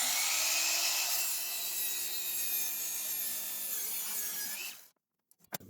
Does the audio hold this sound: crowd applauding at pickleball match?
no